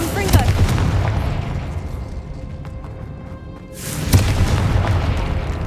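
Spell blasts in the video game Hogwarts Legacy, with two loud booming bursts near the start and end and a rumbling, crackling magical din between them, heard alone without talk.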